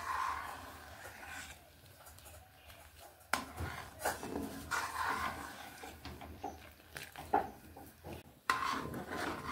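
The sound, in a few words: milk being stirred continuously while thickening into kheer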